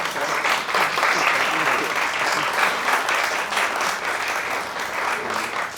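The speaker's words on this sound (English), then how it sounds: "And please have a round of applause." An audience applauds after an Asia Society conversation on modern and contemporary South Asian art, sustained and fairly loud clapping filling the room for several seconds.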